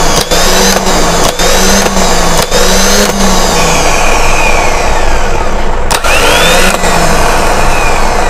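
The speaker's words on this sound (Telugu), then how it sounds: "చెక్ చేద్దాం ఇప్పుడు మోటార్." A 24 V Delco Remy self starter motor runs on test after servicing, a loud, steady high whine with a few short sharp dropouts and a brief stop near the end before it spins up again.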